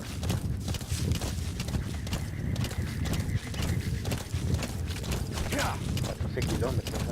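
A horse gallops in the game Metal Gear Solid V, with a continuous rapid clip-clop of hooves under equipment creaks and ambient noise, while someone speaks over it in Spanish.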